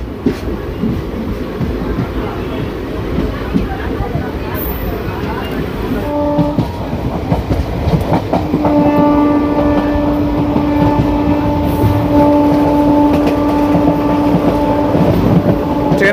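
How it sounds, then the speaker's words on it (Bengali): The Digha special train runs fast after leaving Kanthi station, a loud, continuous rumble and rattle of wheels heard from on board, with a sustained horn tone joining partway through. "খুব জোরে কিন্তু ট্রেনটা যাচ্ছে।"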